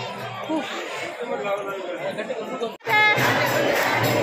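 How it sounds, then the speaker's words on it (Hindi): Dense crowd chatter fills a packed temple in Gokul Dham, many overlapping voices close by, with a brief dip before the murmur swells louder again. "अरे मंदिर में कितना भीड़ है मम्मी, देखो कितना भीड़ है, बहुत भीड़ है यार"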